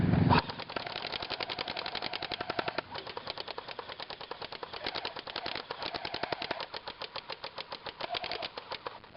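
Airsoft guns fire at a target in fast, continuous strings of sharp mechanical clicks, near and fairly loud, rattling almost nonstop with brief uneven gaps.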